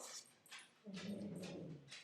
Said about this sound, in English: My dog's grumbling.